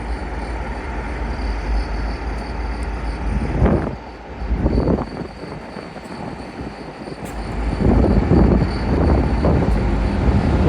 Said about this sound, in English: Arriving now to terminating Transpennine 185 from Manchester to Victoria.